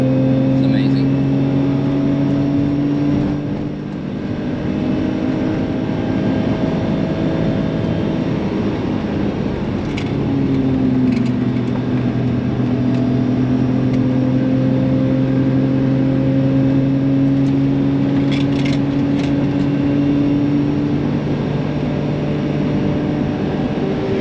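A BMW E34 M5 Touring engine droning loudly at full throttle on the street, its pitch shifting and climbing as it accelerates, sustained and close throughout.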